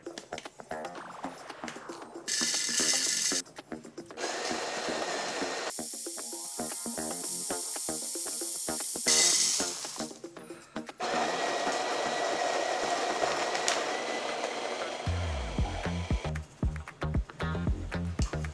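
An Orte coffee grinder grinds beans through a durability test, a loud, steady whirring hiss with shifting bursts and pauses, ending in a run of rattling, choppy pulses as the burrs work through the beans.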